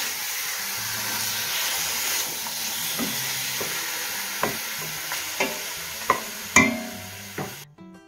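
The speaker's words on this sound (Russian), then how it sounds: "Пока мясо поджаривается" Steady sizzling and hissing of meat frying in a pan, with occasional clinks and scrapes of a utensil stirring.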